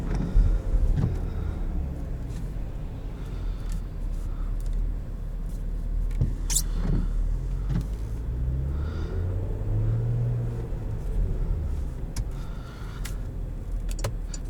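A 2021 Porsche Macan S with its V6 engine driving, a steady low rumble of engine and road noise running throughout at constant level, with a brief higher swell midway.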